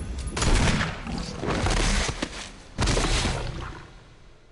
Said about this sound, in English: return fire on the tyrant with 4 shots from your magnum